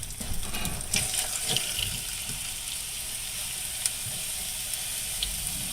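Seasoned beef tenderloin hits a hot pan and sizzles with a steady hissing crackle, close and continuous, with a few soft clicks and knocks around it and no talking.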